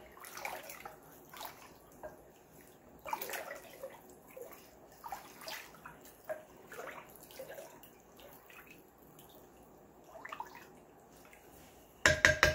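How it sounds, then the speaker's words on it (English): Food is stirred in a 7-quart crock pot about half full, with quiet scraping, clinks and wet sloshing at an uneven pace, and a brief louder clatter at the very end. "I'm gonna give this a big stir."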